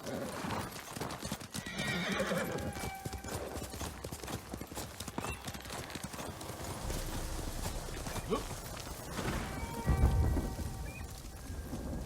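A horse in the Ghost of Tsushima game clip-clops along steadily through rain with rumbling thunder, giving a clear whinny near the end, while a voice talks over it.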